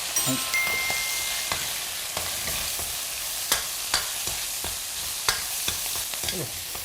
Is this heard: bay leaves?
yes